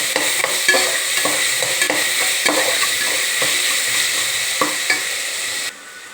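Pieces frying in a pan with salt and ginger paste over medium flame, stirred with a spoon that scrapes and clinks in steady strokes over a constant close sizzle.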